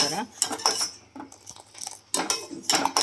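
Masala milk tea is stirred as it boils in a pan, with a spoon clinking and scraping against the metal in several bursts of stirring and short quiet gaps between them.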